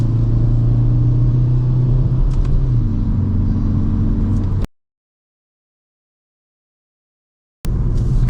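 Kia Forte GT sedan driving downhill from Antipolo, a steady loud engine drone and road rumble with a pitch shift midway, then the sound cuts to about three seconds of silence before resuming briefly.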